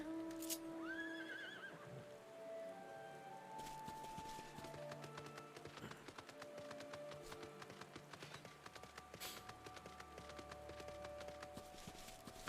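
Mount horse in Final Fantasy XIV gives a short whinny early on, layered over continuous game music and effects with clip-clop and tapping through the rest.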